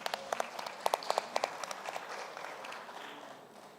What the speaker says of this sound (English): Please give a round of applause to Mr. Ramachandran.